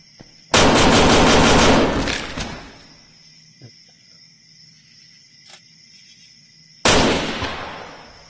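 An automatic gun fires in Tactical Assault VR, shot one-handed: a loud, fast burst of rapid shots lasting about two seconds. A quieter pause with faint clicks follows, then a second loud burst begins near the end.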